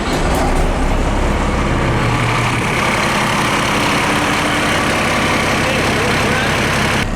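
A brand new QSL 9 marine diesel engine idles on a boat just launched into the water, a steady, loud, continuous rumble filling the whole stretch without breaks.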